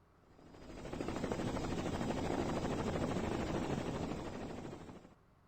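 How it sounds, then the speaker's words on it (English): A helicopter in the Carmen Sandiego video game, heard as a steady, loud rotor and engine roar that swells in after a second, holds for several seconds and cuts off abruptly near the end. "Chopper heading north from Cape Town waterfront."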